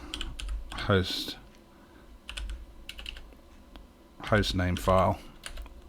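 Quick keystrokes on a computer keyboard entering a terminal command on an Orange Pi, soft clicks in short runs, with someone talking over part of it.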